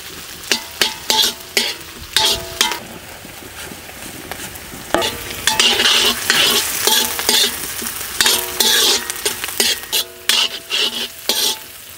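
Chopped onions fry in hot oil as they are browned for a pepper chicken fry, with a constant crackling sizzle broken by repeated sharp metallic scrapes and knocks of a spoon against the pan, close and lively, without speech.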